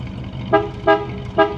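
Horn of a 1955 Chevrolet Bel Air four-door sedan with a 265 V8, sounding three short, loud honks close by over a low engine idle.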